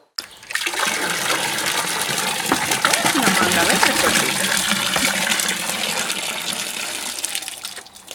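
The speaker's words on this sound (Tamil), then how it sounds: "மாங்காவை நல்லா கழுவிக்கங்க." Raw mangoes being washed for a Tamil-style spicy mango pickle, with steady running, splashing water filling most of the clip at a close, even level.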